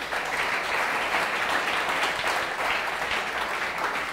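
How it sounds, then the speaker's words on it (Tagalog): A church congregation applauding together during a sermon, steady dense clapping from many hands, loud and even throughout, with no talk over it. "Lahat ng asang-asa kay Lord, pumalakpak ng the best kay Jesus"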